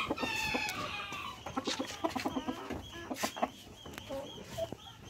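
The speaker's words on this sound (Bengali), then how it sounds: "ঘুরতে চলে আসলাম সেই কাঙ্ক্ষিত মুরগির খামারে" Chickens at a poultry farm in Gabtali, Bogura keep up dense, overlapping clucks and squawks, with one drawn-out crowing call early on, fairly close and continuous throughout.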